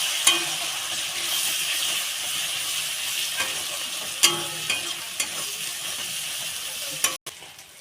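Biryani masala with cumin paste and turmeric is sautéed in a pan, a steady bright sizzle running throughout, broken by a few spaced clinks and scrapes of the spoon, with no voices.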